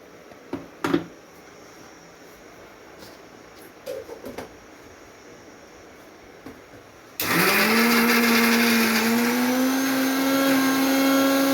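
An electric mixer grinder starts abruptly and whirs loudly, blending fresh coconut, green and red chillies, garlic and coriander into chutney. A few light knocks and handling sounds come first, before the steady high-pitched motor drone.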